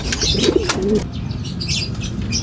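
A racing pigeon arrives at the loft during a training race in Gerona, Tarlac, with a brief burst of flapping wings up close, a soft coo, and faint chirps over steady outdoor background noise.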